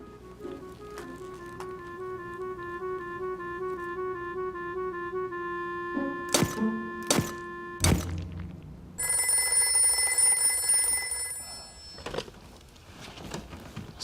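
An old-fashioned telephone bell rings in a repeated steady trill, followed by a few sharp knocks or thuds and then a brighter, busier ringing passage before fading, in a quiet indoor room.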